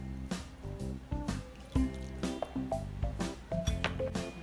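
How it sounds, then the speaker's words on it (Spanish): Warmed coconut milk poured little by little into corn flour dough for bollos, giving quiet wet squishing and dripping sounds in irregular bursts, close up and without talk. "Ahora, poco a poco, le vamos a ir agregando la leche de coco."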